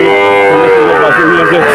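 Sahiwal and local-breed calves at a busy cattle market bellow a loud, long drawn moo close by, with crowd noise behind.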